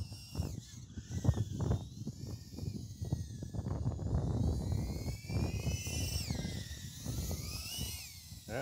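A small FPV quadcopter flies in strong wind, its motors giving a high, whining buzz that swoops up and down in pitch over a choppy, gusting rumble, fairly close and continuous.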